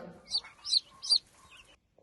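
Three short, high-pitched calls in quick succession, like a young chick or cockerel peeping or clucking, fairly faint, followed by quiet.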